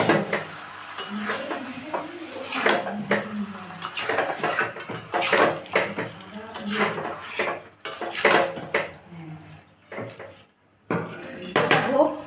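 Chicken curry cooking down in a pot is stirred with a metal utensil, giving repeated close clanks and scrapes against the pot in irregular bursts, with brief pauses between them.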